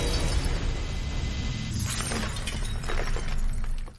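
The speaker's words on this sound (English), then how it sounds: "the glass makes sharp cracking sounds" Glass shatters and cracks sharply, with brittle crackling bursts layered over a dense, noisy background that cuts off abruptly.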